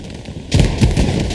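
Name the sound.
grenades exploding in video game Hell Let Loose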